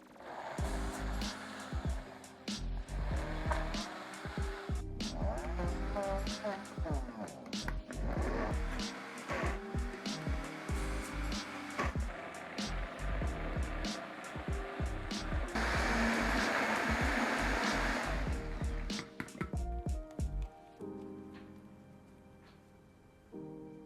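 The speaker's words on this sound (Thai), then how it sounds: "เดี๋ยวผมลองปั่นดูก่อน" A blender whirs a protein mixed-berry smoothie with protein powder, its motor noise shifting and grinding through most of the stretch, loudest and densest near the end before it cuts off.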